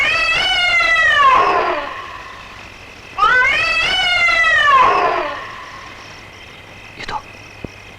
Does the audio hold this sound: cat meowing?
yes